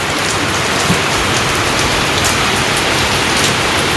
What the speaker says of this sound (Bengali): এটাই থেকে এই বৃষ্টির ফোঁটাগুলো পড়তেছে, কিন্তু বাতাসে এই যে উড়ে যেতেছে।